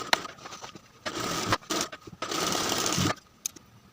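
A sewing machine stitches a zipper into a pair of pants, reinforcing the base of the zipper. It runs in several short, close bursts of stitching with brief pauses between them.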